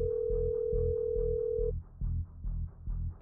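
A telephone line hums with a steady tone that cuts off, followed by a low pulsing ring repeating in even bursts as a call gets through, heard alone without talk.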